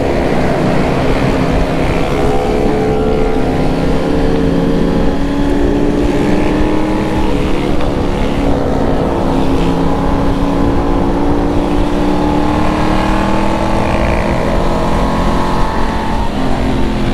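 A convoy of more than 300 motorcycles rides together on a four-lane road, a loud continuous roar of many engines droning and shifting in pitch, with no talk.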